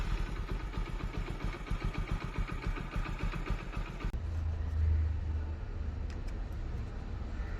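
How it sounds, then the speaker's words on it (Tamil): A motorcycle engine after an oil change, first cranking and catching in a rapid pulsing burst, then settling into a steady idle near the microphone, with no talking. "இப்போ வண்டி எப்படி ஸ்டார்ட் பண்ணலாம் கேட்குதுன்னு பாருங்கள்."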